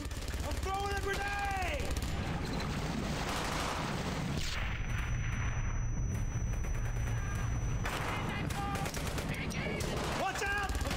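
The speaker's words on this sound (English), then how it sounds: "I'm throwing a grenade!" A grenade blast booms amid sustained battlefield gunfire in the World War II shooter Brothers in Arms: Hell's Highway, loud and dense throughout, with shouted voices mixed into the chaos.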